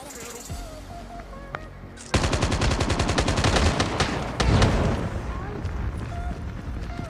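Gunfire in the battle royale mode of Call of Duty Mobile: quiet game ambience gives way to a sustained, loud barrage of rapid automatic shots that continues to the end.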